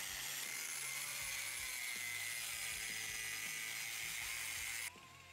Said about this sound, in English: so I'll just use the die grinder again